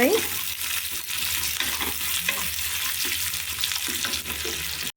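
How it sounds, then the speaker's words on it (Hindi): Onions frying in a pan for a desi-style fish thali, a steady close sizzle with stirring scrapes throughout, loud and continuous, ending abruptly. "एबे हम पियाज पकई भल भाव भाजी नेबा।"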